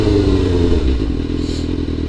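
A loud motorcycle engine runs close by with a steady low rumble, and faint clatter sounds over it near the end.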